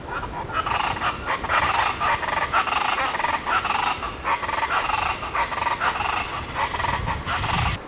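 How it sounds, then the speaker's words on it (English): A bird calls over and over in a forest at sunrise, a steady string of harsh, honking, fowl-like cries heard fairly close against an even background hiss, with no talking. "I think it was just a bird."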